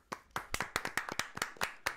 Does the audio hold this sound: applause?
yes